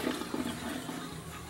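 Ice water pours out of a measuring cup while apple pie is being made, a short, close, continuous splashing trickle with no talking.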